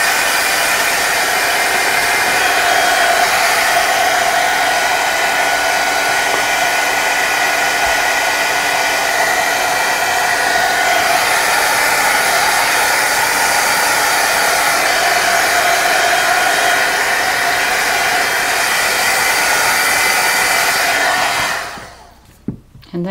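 Hair dryer blowing continuously to dry spray paint on artwork, a loud steady whooshing hum for about twenty seconds before it switches off near the end.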